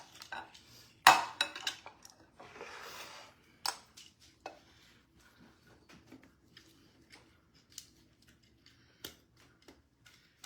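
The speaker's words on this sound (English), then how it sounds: "we're going to dump our potatoes right on in." Potatoes tumble into a pan during home dinner cooking, a loud clattering burst near the start followed by scattered clinks and scraping of cookware, fairly close, with sporadic lighter taps afterward.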